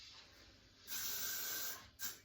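Hairspray hisses from a can onto the back of a girl's hair while it is styled into a cheer high ponytail, in one long close burst and then a shorter second spray.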